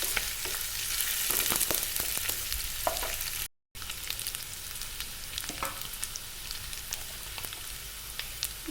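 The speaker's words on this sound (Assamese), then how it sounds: "ব্ৰাউন কালাৰ নহয় তেতিয়ালৈকে এইখিনি মই ইয়াত ভাজিম।" Onions with ginger-garlic paste fry loudly in a pan for Assamese-style chicken curry, giving a dense close sizzle with scattered crackles and brief stirring scrapes, broken by one short silent gap.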